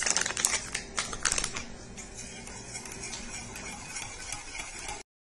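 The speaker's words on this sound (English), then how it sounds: "take it off the stove, and then you want to whisk in the lemon juice" A whisk clicks and scrapes rapidly against a pot as lemon juice and butter are beaten into freshly boiled lemon meringue pie filling, busy at first, then settling into softer, steadier stirring before stopping.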